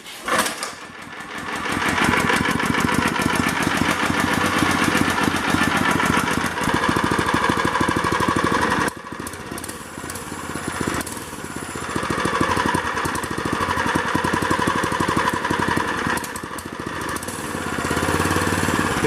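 A small go-kart engine sputters into life and runs with a loud, rapid mechanical chatter that surges and dips over several throttle changes, close by, with no talk.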